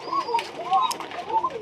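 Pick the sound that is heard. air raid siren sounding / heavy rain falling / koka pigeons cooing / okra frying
koka pigeons cooing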